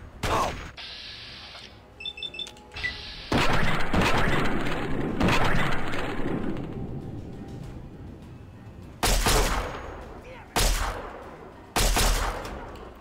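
Laser pistol fire in Fallout 3, several sharp bursts of gunfire and crashes standing out over a busy game soundscape, with loud separate shots near the end.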